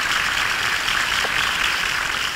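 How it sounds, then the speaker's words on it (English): Applause from a studio audience on a talk show, a steady wash of clapping that holds at an even level for a couple of seconds. "What a huge round of applause for that."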